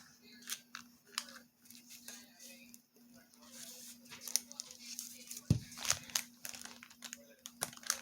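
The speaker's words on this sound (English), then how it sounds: "Let me just cut through it." Scissors make a string of sharp, quick snips and crinkles while cutting through material at a craft table. The snips are close but quiet against a steady low hum.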